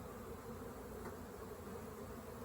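Honeybees hum steadily around a hive topped by a weak nuc, a close, continuous buzzing drone at low volume with no voices.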